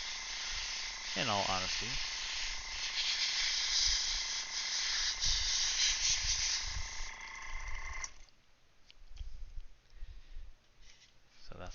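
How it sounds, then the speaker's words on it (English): An airbrush spraying paint onto a Gunpla model very close to the microphone gives a loud, steady hiss for about eight seconds, then cuts off. A person talks over it. "Sorry if the airbrush is too loud."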